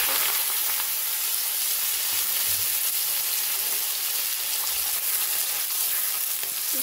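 Thinly sliced kudri hiss steadily in hot oil in a wok, a dense, even sizzle held close and loud from start to finish with no voices.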